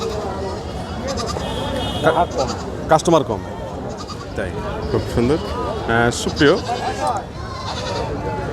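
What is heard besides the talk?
goats bleating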